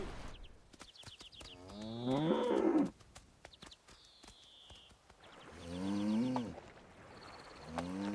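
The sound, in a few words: cattle mooing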